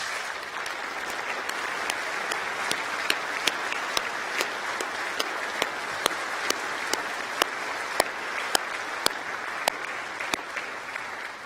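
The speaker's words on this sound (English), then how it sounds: "let me call on you, our graduates, to applaud our outstanding staff" Graduates at a University of York graduation ceremony applaud their university staff, a steady, dense wash of clapping that stays even throughout, with a few sharper claps standing out at regular intervals.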